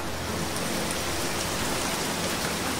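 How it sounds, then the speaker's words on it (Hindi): Steady rain falls outdoors, a dense uniform patter of drops on surfaces, loud and constant with no voices. "कुछ देर बाद परमेश्वर करते हैं हम पे बरसात, और ऐसा बरसात करते हैं"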